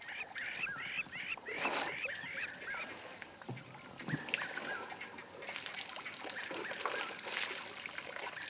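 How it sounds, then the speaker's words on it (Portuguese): Elephants in Swaziland draw water up with their trunks, giving soft trickling, slurping and gurgling under a steady outdoor hiss, with scattered squeaky animal calls and a few low splashes. "Eles bebem até 40 litros de água e usam suas trombas para sugar até 9 litros por"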